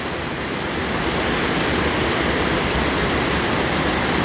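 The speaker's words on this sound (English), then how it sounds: "look, it's almost the end of the waterfall" A roaring waterfall near its end, pouring over rocks, gives a steady, loud, broadband rush of falling water that holds constant throughout with no voices.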